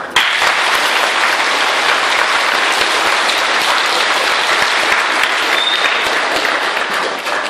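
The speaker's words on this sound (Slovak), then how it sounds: "Hovoríte potlesk trochu silnejšie." A school crowd at a first-graders' ceremony claps harder on request, a loud, thick, unbroken wall of applause from many hands that continues strongly to the end.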